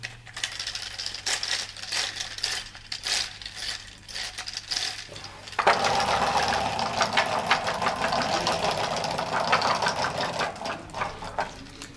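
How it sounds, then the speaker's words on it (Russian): A wooden UGears combine harvester model is wound by pulling it backward, giving a series of ratcheting clicks, then the wound-up mechanism runs with a steady, close, busy whirring and clattering. "Комбайн просто вот заводите движением назад."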